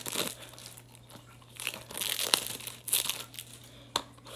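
Plastic wrap on a boxed Super Mario Maker 2 game is torn and peeled open nearby, giving irregular bursts of crinkling and crackling with short sharp tears in between.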